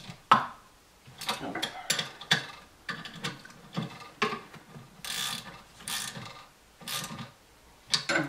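A wrench tightens the bottom-end bolts of a Peugeot 103 moped engine, a series of close ratcheting clicks and metallic clinks in short irregular bursts, with no talk.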